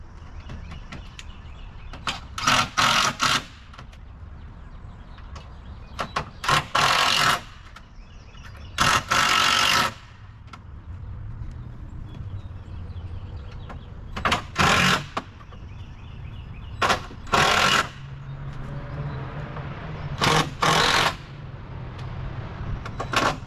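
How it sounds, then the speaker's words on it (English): Eight bolts go into the side of a grill gazebo during assembly, heard as several loud, separate bursts of driving noise with short quiet gaps between them, and no voices. "Go ahead and tighten these 8 bolts down on this side."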